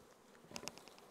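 Bees swarming inside a box during a transfer of a colony that had lived in it for a year, a soft close buzzing hum with a brief louder burst of wing noise midway, no talk.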